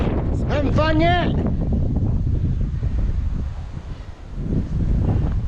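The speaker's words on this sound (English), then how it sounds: "Pretty windy up here on the edge." Strong wind buffets the microphone on an exposed mountain edge near Mount Hotham, Victoria, while cycling downhill, a loud continuous rushing roar that swells and dips, with a brief voice sound near the start.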